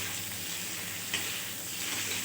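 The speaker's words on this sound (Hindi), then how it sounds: "अब हम इसमें डालेंगे आलू और इसको अच्छे से तिल के साथ मिक्स कर लेंगे" Potatoes stir in a frying pan with sesame seeds, a steady soft sizzle with one brief scrape of the spoon midway.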